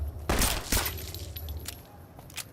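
Gunfire in Fallout New Vegas: a couple of sharp, loud shots near the start, then scattered fainter cracks and clinks trailing off, with no talk over them.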